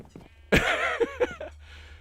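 Sheep bleat in a video game, one clear wavering bleat followed by a couple of shorter calls, fairly close and alone over a quiet low background hum.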